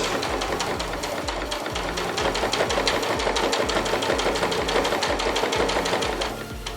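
A sewing machine stitching a fabric face mask runs steadily, its needle clattering in a fast, even rhythm with a mechanical hum, then slows briefly near the end.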